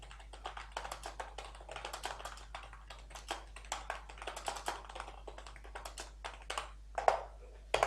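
Rapid, uneven keystrokes on a computer keyboard as a text prompt is entered, close and fairly quiet, with a low steady hum underneath and no talking.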